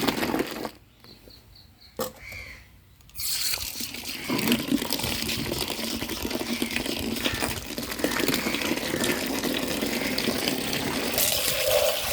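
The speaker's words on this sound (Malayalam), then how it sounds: "നേർപ്പിച്ചത് ഈ കേബേജിന് ഞാൻ കുറച്ച് ഒഴിച്ച് കൊടുക്കലാണ്." Diluted leaf-based liquid fertilizer is poured onto a cabbage bed, making a continuous close splashing gush that runs for about nine seconds after a few faint knocks and a short quiet gap.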